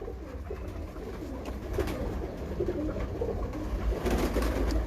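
Pigeons coo on a rooftop loft where racing pigeons are kept, soft repeated throaty calls over steady low background rumble, fairly close and continuous with no talk.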